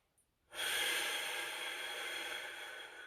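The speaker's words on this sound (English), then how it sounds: "Breathe in." A deep breath drawn in during a held forearm and biceps stretch in a full-body static stretching routine, a steady airy inhale lasting about two and a half seconds, close and alone.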